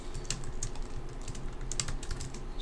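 Someone types on a computer keyboard while working in Blender, with quick, irregular key clicks and a few sharper taps sounding close and clear over a faint background hum.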